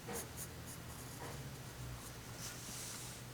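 Faint, close scratching of a graphite wood pencil sketching on paper, soft short strokes repeating over a quiet background.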